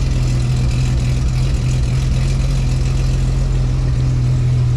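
A Holden LX Torana engine idles through a newly fitted exhaust system that has no tailpipe yet, giving a loud, steady, close low drone that holds unbroken throughout.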